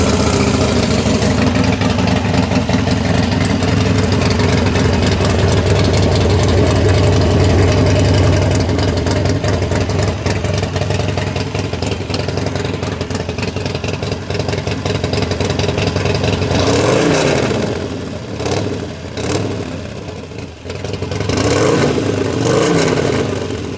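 A Harley motorcycle engine fitted with a new loud aftermarket exhaust runs close and loud. It idles with a deep, steady rumble, then gives several sharp revs near the end.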